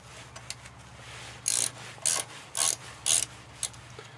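Ratchet wrench loosening bolts on the front axle of a Citroën Traction, five short bursts of clicking in a steady rhythm with a couple of faint single clicks, close and fairly quiet over a low hum.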